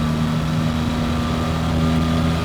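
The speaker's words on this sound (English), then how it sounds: "Get the power back on, and the engine sounds really good." A BMW R1300 GS motorcycle engine pulls steadily under acceleration on a woodland road, a loud, close, continuous drone with a strong low hum and no talk over it.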